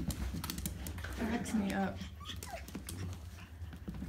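A Cavachon puppy runs laps across the floor, its claws making quick, light ticking patters under a person's nearby talk, with a faint whimpering note in the mix.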